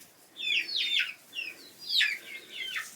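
Chickens let out a run of high, wavering calls in short bursts, close by with no talking.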